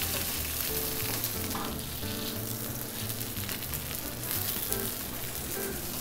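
Chicken skin searing skin-side down in a hot pan with oil in a bistro kitchen, a loud continuous sizzle and crackle held close and steady throughout, no talking.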